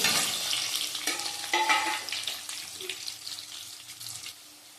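Boiled potatoes, now browned, being stirred in a frying pan: a moderate close sizzle with scraping and clinks of the spatula, fading slightly toward the end.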